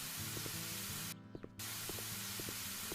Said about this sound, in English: Spray it inside!